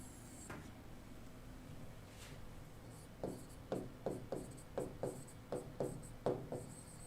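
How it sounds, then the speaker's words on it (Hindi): Chalk or pen writing out physics calculations on a board in a classroom, a run of short scratchy strokes in quick rhythm after a few quiet seconds, close and fairly clear with no talking over it. "कुछ कैलकुलेशन को मैं यहाँ पर लिखता हूँ"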